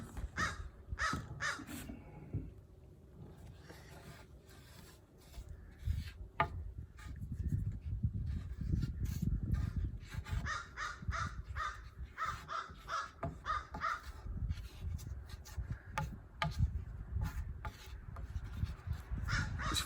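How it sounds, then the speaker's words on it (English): A crow caws repeatedly in short, spaced calls, fairly faint and somewhat distant, over a low outdoor rumble with scattered rustling. "That crow comes here every morning."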